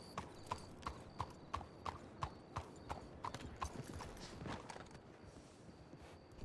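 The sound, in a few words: horse hooves clip-clopping in video game Red Dead (WildRP)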